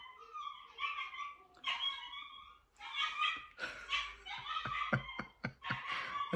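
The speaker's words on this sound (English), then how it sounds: "That's my dog-in-law in the background, if you can hear that." Two dogs, Tilly and Effie, yip, whimper and bark in the background, one pitched slightly lower than the other, in irregular clusters of excited calls with a few sharp barks near the end.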